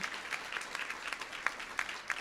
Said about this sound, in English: feel free to clap for that too